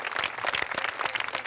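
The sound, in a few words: crowd of pilgrims applauding the Pope at Lourdes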